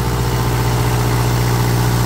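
An Onan 12.0 DJC diesel generator running under load, a loud, steady low droning hum with even engine vibration and no break, heard close up.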